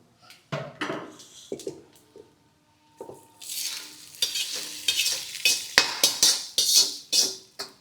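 Tempering for katte pongal sizzles loudly in a hot pan after a few spoon taps, crackling bursts rising and falling up close.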